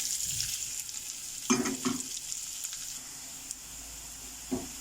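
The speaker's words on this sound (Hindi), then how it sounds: "अब इसमें हम डालेंगे ओनियन चॉप किया हुआ" Chopped onion fries in a pan for a ridge gourd moong dal, giving a close, steady sizzle with a couple of sharper stirring clatters partway through and no voices.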